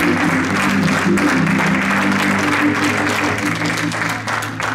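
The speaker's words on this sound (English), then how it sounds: "Clap your hands and give him some worship before you see it" A church congregation claps hands in worship, a continuous rolling applause layered over sustained organ or keyboard tones at moderate loudness.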